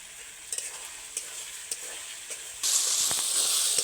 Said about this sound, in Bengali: আদা রসুন পেঁয়াজ টমেটো বেশ সুন্দর ভাজা ভাজা হয়ে গেছে